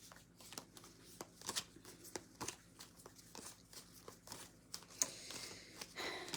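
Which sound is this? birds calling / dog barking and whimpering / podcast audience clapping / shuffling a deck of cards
shuffling a deck of cards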